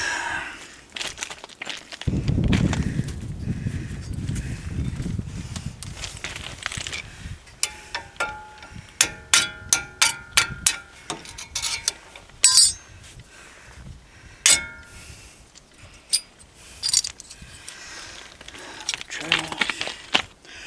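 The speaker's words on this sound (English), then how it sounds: "Remove the brake pads." Brake pads come out of a caliper on a third-generation Dodge Ram, with sharp metallic clinks and rattles in an irregular series, close and fairly loud, after a stretch of low rumbling handling noise.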